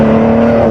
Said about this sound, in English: I'm going to floor it here real quick